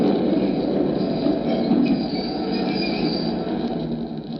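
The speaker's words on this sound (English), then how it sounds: "The last train was just pulling in." Radio drama train effect: a train pulls into a station with steady rumbling, rolling wheels and a thin squeal of steel on rail, close and loud, slowly easing off toward the end.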